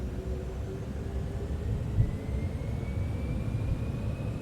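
Citation X business jet engines at takeoff thrust in the MSFS 2024 flight simulator give a steady, loud broadband roar with a faint rising whine, constant and close, with no voices.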